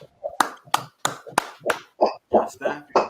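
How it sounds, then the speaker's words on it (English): A few people clap in short bursts at a street preaching gathering, sharp close claps mixed with raised voices talking over them. "Clap it up for that, bro."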